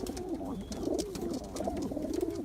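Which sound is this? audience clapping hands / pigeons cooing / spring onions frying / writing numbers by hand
pigeons cooing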